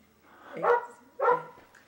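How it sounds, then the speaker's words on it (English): A dog barks twice in quick succession, two loud, close barks about half a second apart indoors or just outside a house, with no talking over them. "Pardon this darn dog."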